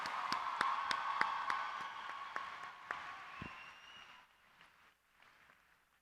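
Audience applause for a speaker at a state convention session: a dense round of clapping with a few sharp individual claps on top, tapering and fading out after about four seconds.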